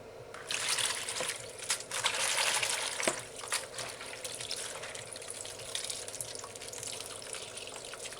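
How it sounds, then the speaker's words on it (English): Tap water runs steadily into a sink while vegetables for a sloppy joe burger are rinsed, a continuous close splashing with a few small drips and clinks. "We're going to rinse it and clean it properly."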